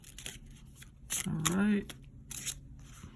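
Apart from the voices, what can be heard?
shuffling tarot cards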